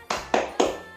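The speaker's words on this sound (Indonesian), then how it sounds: "Tepuk semangat." A third-grade elementary class claps together in unison for a spirit cheer: three sharp, evenly spaced group claps, close and crisp, with no voices between them.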